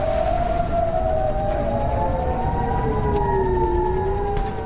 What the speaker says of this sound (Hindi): खाड़ी के देशों में इस वक्त सिर्फ वॉर सायरन बज रहे हैं।